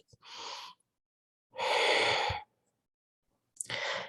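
Deep breathing during a gentle yoga flow: three slow, breathy exhales heard up close, separated by silent pauses, the middle one longest and loudest.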